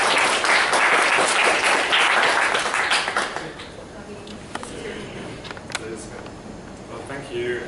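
An audience at a talk on mobile users applauds to welcome the speaker, with dense clapping that is loud at first, then thins to scattered claps and fades.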